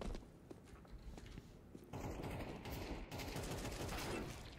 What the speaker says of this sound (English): I am just training headshots with the AK-47.